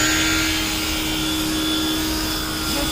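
A pressure washer sprays steadily while a vehicle is detailed, giving a loud, unbroken motor drone with a high whine, close up and without talk.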